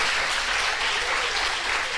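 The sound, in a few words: congregation applauding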